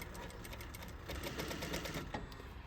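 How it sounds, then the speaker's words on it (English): A sewing machine stitches along an inner concave curve with a fast, even mechanical clatter running steadily throughout, close and alone. "And then you're gonna put your foot back down and continue sewing."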